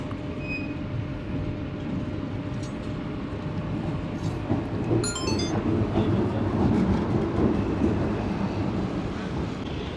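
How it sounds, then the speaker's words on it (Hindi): A G40 locomotive hauling the Shalimar Express from Lahore to Karachi as it begins to accelerate, a steady rumbling drone of engine and wheels heard from on board, with brief higher squeals in the middle. "अब G40 की आवाज़ आ रही है जी। अब एक्सीलरेट करना शुरू किया ट्रेन ने।"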